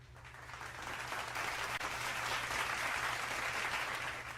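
Recorded applause sound effect played on a live talk radio show, a steady dense wash of clapping that swells slightly and holds for several seconds at low level with no talk over it.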